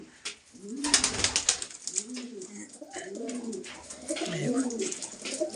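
Madrasi and Giribaz pigeons coo repeatedly in a breeding loft, soft rolling calls overlapping close by amid faint rustling.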